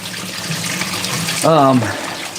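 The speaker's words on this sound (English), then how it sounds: "Okay, we're rinsing this." Produce being rinsed under a running kitchen tap while making juice, a steady wash of flowing water with a voice speaking briefly over it midway.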